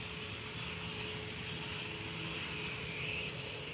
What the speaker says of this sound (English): But the classic Jet2 A330-200